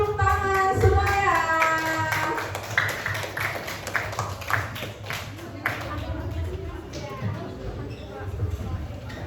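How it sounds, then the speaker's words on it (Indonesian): A classroom of students applauds as a group heads to the front, brisk scattered clapping that is close and lively, with voices and chatter mixed throughout. "Tepuk tangan semuanya"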